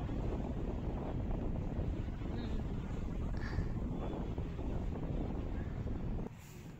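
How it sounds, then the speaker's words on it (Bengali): Strong, cold wind along the bank of the Ganges, buffeting the microphone with a steady low rumble and hiss that persists throughout, then drops sharply near the end. "খুব হাওয়া বইছে।"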